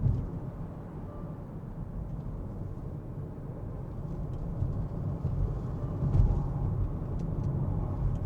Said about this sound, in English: It does want to understeer a little bit and makes a bit of tyre noise.